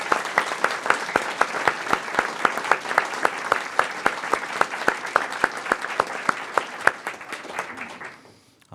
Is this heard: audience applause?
yes